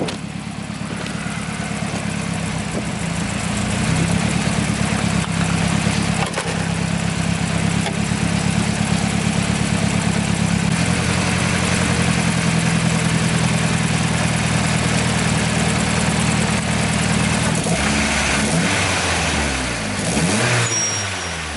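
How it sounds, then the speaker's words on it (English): A Nissan 240SX engine idling with a timing chain rattle, a steady close mechanical drone with a metallic clatter running underneath, holding evenly for about twenty seconds with slight shifts near the end. "Or it's timing chain rattle."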